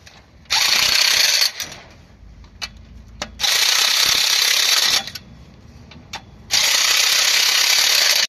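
A ratchet tightens the clutch cover bolts on a Hyundai i20, three loud bursts of rapid, buzzing clicks lasting a second or more each, separated by brief quieter pauses with small metallic taps, close by and without speech.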